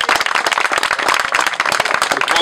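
A crowd claps at an award ceremony marking the tenth anniversary of a Moskvich car club in Bulgaria. The applause is close and lively, with brisk, uneven hand claps filling the whole moment and no talking over it.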